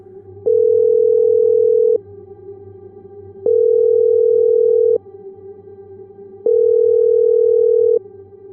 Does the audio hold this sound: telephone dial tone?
yes